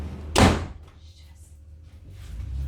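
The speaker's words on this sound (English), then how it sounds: "that door was about to slam" A fridge door swings toward a slam but is caught, giving one brief, fairly loud thud close by, followed by quiet room tone in a home kitchen.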